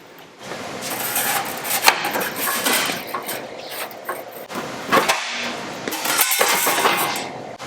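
Sheet metal patch panel for a hot rod being trimmed along its edge, a steady scraping, rasping cutting noise with short breaks, close and fairly loud, with no talking.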